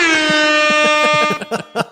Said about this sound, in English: So air horn time.